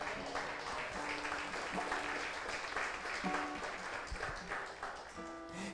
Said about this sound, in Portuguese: Você pode dizer amém, aplaudindo a Jesus Cristo?